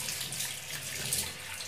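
A kitchen or bathroom sink tap runs steadily, a soft continuous hiss of flowing water, faint and even with no voices.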